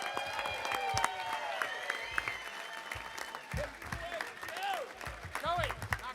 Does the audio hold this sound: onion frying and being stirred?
no